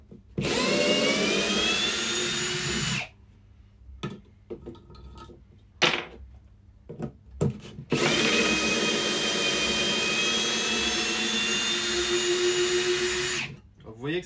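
A Ryobi One+ HP RPD18C cordless hammer drill drives screws in two long, loud whining bursts with steady motor pitch, separated by a pause of clicks, handling noise and brief trigger blips.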